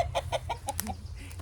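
Turkeys in an outdoor enclosure give a run of short, regular clucks and gobbling calls, close by and fairly loud over a low steady background rumble.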